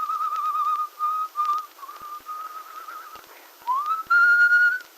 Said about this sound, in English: Unconsciously, he'd started to whistle